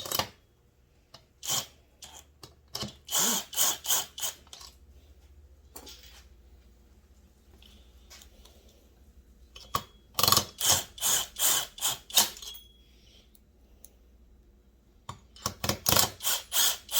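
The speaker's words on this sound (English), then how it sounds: "Reinsert the screws, bolts, socket head cap screws," A ratchet tightens socket head cap screws on a chainsaw in close, clicking bursts: several quick runs of sharp pawl clicks separated by quiet pauses, with no talking.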